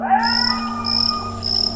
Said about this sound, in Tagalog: tanging huni ng mga kuliglig at mga alulong ng aso ang maririnig